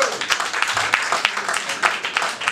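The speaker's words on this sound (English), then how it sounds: "Other men just politely clap." An audience of men at a live comedy show claps politely. The clapping is scattered and fairly close, with some crowd murmur underneath.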